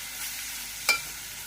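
Finely chopped onion sizzles steadily in a pan, with a single brief scrape of stirring midway through the soft frying hiss.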